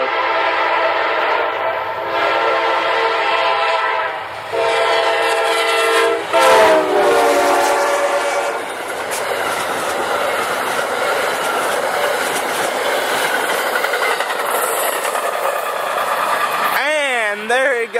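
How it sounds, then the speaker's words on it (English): An Amtrak passenger train pulled by a CSX locomotive and two Amtrak locomotives passes close by, with a loud horn blast near the start, steady rolling rumble and wheel clatter, and a final horn call near the end. "there it goes, an Amtrak pulled by a CXX locomotive and two Amtrak locomotives"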